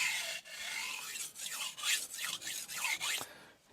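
A Yoshida Hamono Bunka 190mm ZDP189 steel knife sharpened on a ceramic stone, loud close rasping strokes in a steady back-and-forth rhythm with short pauses between passes.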